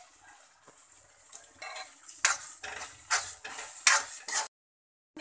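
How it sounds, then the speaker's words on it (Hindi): Thick boiled dal splashes and sloshes from a pressure cooker into a hot kadai of frying spices in several uneven pours, with clinks of a utensil against metal, then sudden quiet. "अब इसमें हम दाल जो बॉईल किए थे वो डाल देते"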